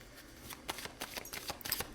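Tarot cards are handled and shuffled in a quiet room, a series of soft, quick papery riffles and flicks, close and faint.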